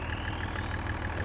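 Steady idle of a Fiat Agri tractor engine in a farming video game, a loud, even low rumble with a regular pulsing throb and no talk over it.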